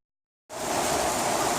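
Heavy rain pours down hard outdoors by a garden. A half-second of silence gives way to a loud, steady, dense roar that carries on unbroken with no voices.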